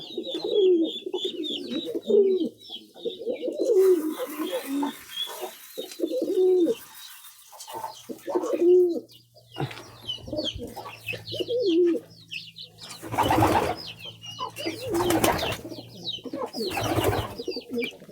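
Domestic pigeons coo in a steady, repeated rhythm close by, a few throaty calls in a row, then scuffling and flapping noises break in toward the end.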